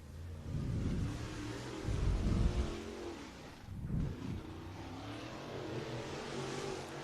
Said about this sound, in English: The 5 of Chase Oliver heads out onto the racetrack.